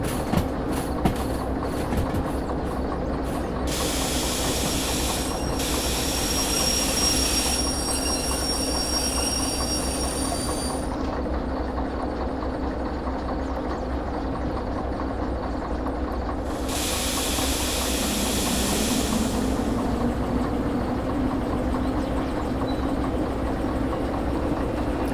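A short freight train in the Derail Valley game rolls steadily along the rails, with a continuous rumble, hiss and clatter of wagons, a rising high-pitched wheel squeal in places, and no voices over it.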